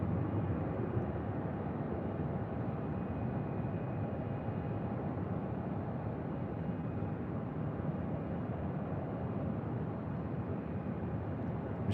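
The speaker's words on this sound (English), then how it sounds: "Next arrival is Southwest Airlines Flight 1450 coming in from Sacramento, 737 MAX 8" A Southwest Airlines Boeing 737 MAX 8 arriving at Phoenix airport on runway 8: a steady, broad jet roar that holds constant and loud throughout, with no voices over it.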